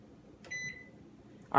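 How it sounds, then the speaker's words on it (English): Microwave oven keypad beeps as its timer is set: one clear electronic beep midway, then a sharper click or beep at the end, in an otherwise quiet kitchen. "you gotta set your timer for 7 minutes"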